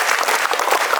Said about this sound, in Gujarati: હવે લંબી તાળીઓથી આપણે